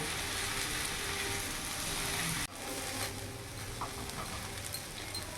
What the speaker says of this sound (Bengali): ভালো করে নাড়াচাড়া করে মিশিয়ে নিয়েছি